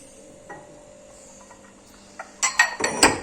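Quiet kitchen room tone, then near the end several sharp ceramic clinks and knocks as ice cream bowls are handled and set against each other close by.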